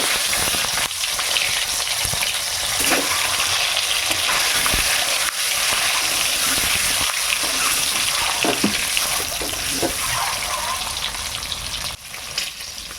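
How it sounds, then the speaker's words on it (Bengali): Continuous sizzling and crackling of an egg frying in a hot pan, with occasional scraping stirs and small pops throughout. "এবার ডিমটা ভেজে নেব।"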